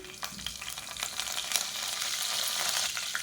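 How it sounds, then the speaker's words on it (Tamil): Mustard and fennel seeds crackle and pop in hot oil with a steady sizzle underneath, the small sharp spatters coming irregularly and close by. "கடுகு சோம்பு பொரியுது"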